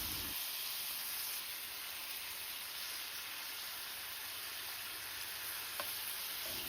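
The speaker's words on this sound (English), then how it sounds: "You should hear the sizzling sound when you place your meat." Thinly sliced beef brisket sizzles in a pan on medium-high heat for Korean BBQ, a steady close hiss with no voices.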